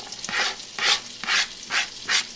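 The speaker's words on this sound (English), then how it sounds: "we're gonna throw in our onion" Onion cooking in butter in a pan, heard as four or five rhythmic swishing bursts about half a second apart over a low sizzle, close and moderately loud with no speech.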